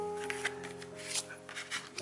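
Oracle cards being shuffled by hand make soft, papery riffling and flicking sounds in irregular bursts, close up. A quiet hum stays underneath and nobody speaks.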